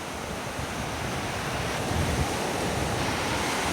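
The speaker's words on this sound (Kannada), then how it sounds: "ನೋಡಿ ನೋಡಿ, ಅಲೆ ಬಂತು." Sea waves break steadily on Malpe beach, a continuous close roar of surf with wind noise on the microphone and a slight swell in loudness midway.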